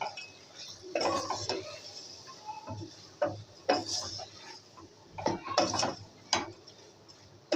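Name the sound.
mixing chilli flakes, salt and turmeric in a pan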